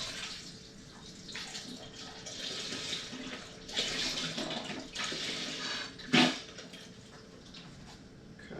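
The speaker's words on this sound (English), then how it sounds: "So I'm going to add a 32-ounce container of beef broth to the chili." A 32-ounce container of beef broth is poured into a pot of chili, making soft, uneven splashing and gurgling in a few bursts, with a louder slosh toward the end.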